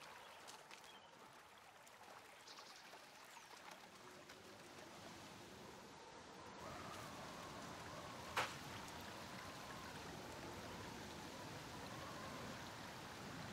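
Soft, continuous gurgle of river water flowing below in the video game The Forest, quiet and steady, with a brief faint click partway through and no talking.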